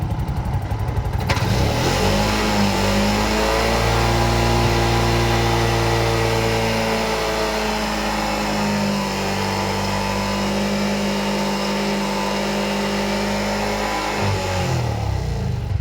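A Bajaj BS6 CNG vehicle with 16,000 km on it and a suspected blockage, its engine held at high revs under the accelerator, a loud, steady, close-up roar lasting over ten seconds before dropping away abruptly.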